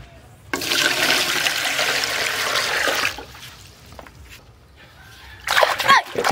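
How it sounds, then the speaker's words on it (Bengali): Water gushes and splashes loudly while fish is washed in a home kitchen, a sustained close rush that stops abruptly, followed by quieter handling and a final burst of splashing. "এমন জল ছিটকেছে"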